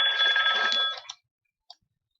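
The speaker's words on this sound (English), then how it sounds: "Sorry about that phone." A telephone rings once with a bright, warbling electronic tone that cuts off abruptly, followed by a faint click in otherwise quiet surroundings.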